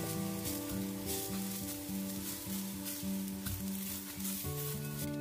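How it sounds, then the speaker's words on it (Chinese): Washed millet dry-fries in a pan over medium heat, a continuous gentle sizzle and stirring heard beneath loud background music. "先把小米里面的水分给它炒干。"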